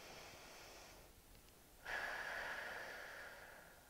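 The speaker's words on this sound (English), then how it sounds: "we're going to take a deep breath in." A deep inhale during a foam roller thoracic extension, with an audible airy intake through the nose that starts partway through and holds steadily for about two seconds, close and quiet, with no talking.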